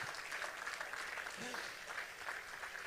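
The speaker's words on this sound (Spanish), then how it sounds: "Denle un aplauso al Señor" Faint, steady applause from a church congregation, sustained throughout and heard at a distance, with a brief voice heard near the middle.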